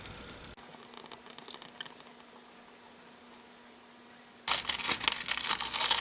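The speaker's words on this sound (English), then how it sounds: "Now just pulling the backing off." Adhesive backing peeled off a handmade shaker card, with soft crinkling and faint ticks of paper handling at close range, then a louder burst of crackling, rustling paper at the end.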